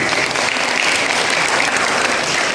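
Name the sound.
audience applause for the GenRe ambassadors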